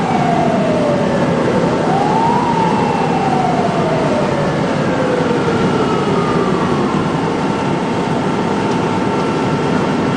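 An ambulance siren wails at a staged car crash scene, its pitch sliding up and down over steady background noise, continuous and fairly loud throughout with no talking.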